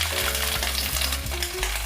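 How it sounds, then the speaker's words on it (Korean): Cabbage stir-fried in perilla oil sizzles loudly and steadily in a pan, with rhythmic scraping and tossing clunks from stirring recurring every fraction of a second, close up and without voices. "들기름에 달달 볶아주겠습니다."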